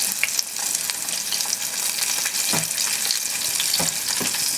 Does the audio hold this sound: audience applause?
no